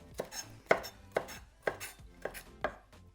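Knife cutting green paprika diagonally on a cutting board for Uyghur lagman sauce: six crisp, evenly spaced chops, close and clear, with no talking.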